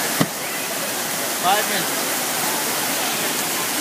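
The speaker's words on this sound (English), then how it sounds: "All the water has to drain out of here." Fountain water rushing steadily before the basin drains for a light show, a dense, close, continuous wash with a brief bump early on and a short spoken phrase over it.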